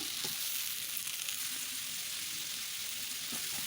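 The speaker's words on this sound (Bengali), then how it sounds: "কাঁচা লঙ্কা সেগুলোও ভাজা করে নেব" Green chilies fry in oil over a clay stove, a steady close sizzle and hiss holding at an even level throughout, with no talking.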